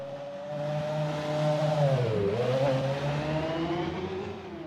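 A 12-cylinder car engine with two cylinders feeding each exhaust pipe revs up, dips and climbs again in a smooth, close, sustained tone with strong harmonics.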